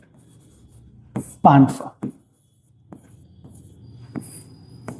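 A teacher writes a total on a board during a maths lesson, giving a few short scratchy strokes between bursts of close, clear speech.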